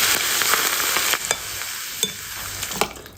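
Hot oil poured over minced garlic and chili peppers sets off a dense, steady sizzle, with a few faint clinks of a utensil. No one speaks.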